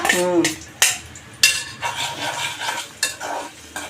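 Coconut pieces fry in ghee for temple-style sweet pongal, with a spoon clattering and scraping against the pan in sharp, irregular knocks over a light sizzle.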